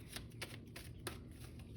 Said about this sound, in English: Let's pull some advice cards.